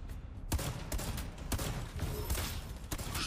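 Gunfire aimed at the player in the mobile shooter game The Division Mobile: rapid bursts of shots crack out in quick succession at fairly low level over a busy game background, with no talk.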